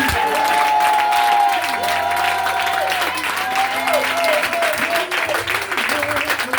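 Church congregation applauding at a national evangelical vigil, a steady dense wash of clapping that runs throughout, with voices and sustained tones carrying over it.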